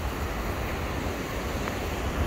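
Surf at Macumba beach, a surfing beach in Recreio dos Bandeirantes, Rio de Janeiro, rolls in as a constant wash of loud, close broadband surge mixed with wind, with no voices.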